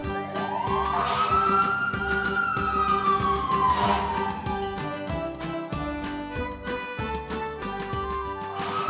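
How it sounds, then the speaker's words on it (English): A toy fire engine from a Paw Patrol set sounds a loud electronic siren, one long rising and falling sweep over a steady clatter of toy noise, with no voices. "Fire engine."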